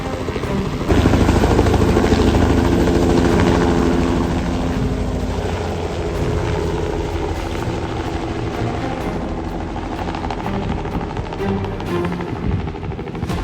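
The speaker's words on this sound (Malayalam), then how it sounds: "ഫ്ലൈറ്റില്ല, ഹെലികോപ്റ്റർ." A helicopter's rotor thumps loudly and continuously nearby at Victoria Falls, a pulsing chop that eases slightly as it moves off.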